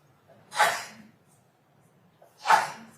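Two sharp sneezes about two seconds apart ring out in a quiet courtroom, each a short, loud burst of air.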